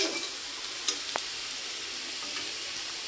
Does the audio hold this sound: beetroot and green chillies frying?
yes